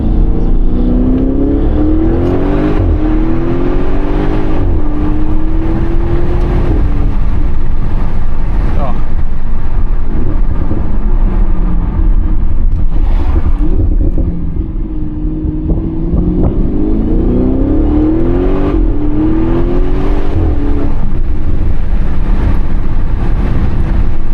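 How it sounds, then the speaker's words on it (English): A 2017 Audi RS6 (C7) engine and titanium exhaust rumble deeply from inside the cabin, the tone rising and falling with acceleration, with wind noise and occasional talk. "Yes, it's that exhaust."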